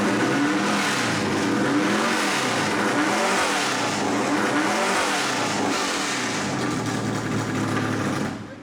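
Race car engine revving hard in the pit, a loud sustained roar with rising and falling rev swells throughout, cutting off at the very end.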